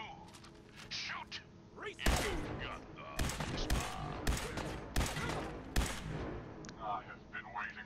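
Video game gunfire in Fallout 4 inside Vault 114, sharp close shots and volleys with heavy thuds, scattered across several seconds under and between character voices.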